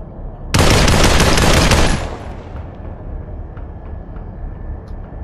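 Gunfire in the VR shooter Population One: a loud, dense burst of rapid shots lasting about a second and a half, then fading into a quieter low rumble of background game ambience.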